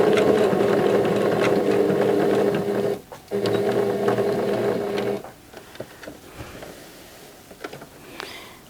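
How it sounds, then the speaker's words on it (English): A sewing machine stitching quilt applique on a gnome table runner runs in a fast, even whirring burst, stops briefly, runs again for about two seconds, then gives way to quieter clicks and handling. "Put my needle down, tack it, and stitch that section."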